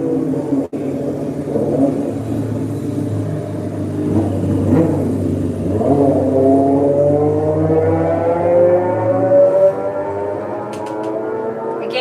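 A motorcycle passes close by, its engine note rising and then sweeping down as it goes, loud and alone with a steady rumble underneath.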